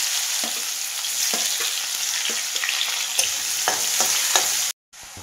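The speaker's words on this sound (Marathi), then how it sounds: "फोडणीसाठी कापून घेतलेला हा कांदा टाकलेला आहे।" Chopped onion sizzles and crackles steadily in hot oil with mustard and cumin seeds, with occasional stirring scrapes, then cuts off briefly near the end.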